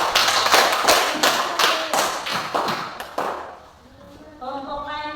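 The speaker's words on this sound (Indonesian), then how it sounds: "tepuk tangan dulu untuk kelompok ini" A school class applauds a student group after its presentation with brisk, dense clapping that lasts about three seconds. The clapping then fades, and a single voice begins speaking.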